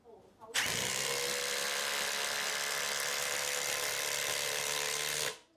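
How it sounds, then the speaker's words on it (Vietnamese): A Milwaukee M12 FID2 12V impact driver set to mode 3 drives a screw into wood, giving a loud, steady, rattling whir that runs for about five seconds before stopping abruptly. "Bây giờ tôi sẽ sử dụng cái con vít này để vặn vào gỗ xem là nó nhanh hay chậm nhá"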